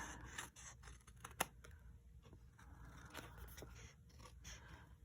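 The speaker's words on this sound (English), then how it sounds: "just take your scissors and trim around the corner of the envelope" Scissors cut and scrape through the corner of a paper envelope up close, with soft rubbing and snipping sounds in a quiet room.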